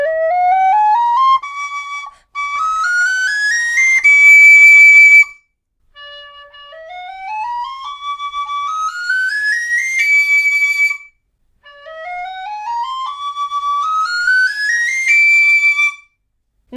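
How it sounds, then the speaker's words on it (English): A deQuelery high D tin whistle of carbon fibre or aluminium plays three runs of quick rising and falling scales, clear bright tones played close and alone, with short pauses between runs. "you'll notice from the quick scales that I did there that these whistles are ridiculously responsive"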